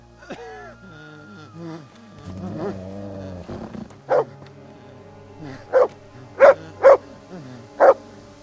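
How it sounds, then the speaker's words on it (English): A dog in Kingdom Come: Deliverance barks five times in a row, loud, close and sharp, after a stretch of quieter low game sounds and movement. "Maybe stop barking, dog."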